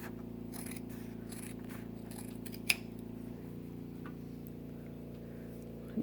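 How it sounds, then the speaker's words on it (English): Scissors cut fabric for a handmade envelope, quiet snipping and scraping strokes spaced irregularly over a steady low hum, one sharper click standing out, with no voices. "Cut some off the bottom here."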